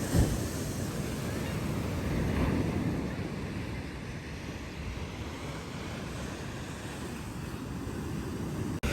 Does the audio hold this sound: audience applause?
no